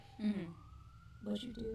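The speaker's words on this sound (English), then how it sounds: "Sirens talking about Mantle. That is a very common sound you hear, is these sirens" A police siren wails with a rising tone in a Volume 7 episode of the animated series RWBY, set in the city of Mantle, sounding faint beneath brief conversation.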